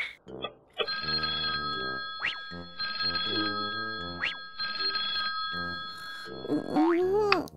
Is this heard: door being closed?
no